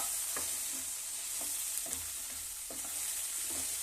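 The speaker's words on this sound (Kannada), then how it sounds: "ಇದು ಚೆನ್ನಾಗಿ ಫ್ರೈ ಆಗಿದೆ ಬೆಂಡೆಕಾಯಿ ಗ್ರೇವಿ" Okra gravy for a kurma fries in a pan with a steady sizzle, while a utensil scrapes and stirs it at irregular intervals, close and moderately loud, with no voices.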